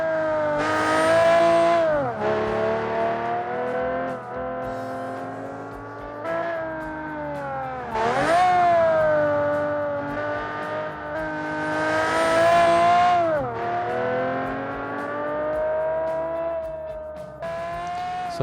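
Supercharged V12 in a BMW Z3 racing on the Nordschleife in a video game, its cylinder wall melted and oil critically low: a loud, continuous engine howl that climbs and falls through repeated gear changes over about eighteen seconds, with no talk.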